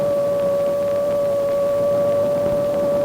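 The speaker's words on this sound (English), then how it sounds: "the operator recognizes that this is the characteristic sound of a moving Jeep" A steady, droning audio tone from an AN/PPS-5 ground surveillance radar set tracking a moving Jeep, a constant hum with a faint fluttering texture, held evenly and loud throughout.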